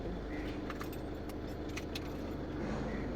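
A manual car pulling away in first gear as a learner eases off the clutch, a low, quiet engine hum with faint jangling of keys on top, close and steady, no talking.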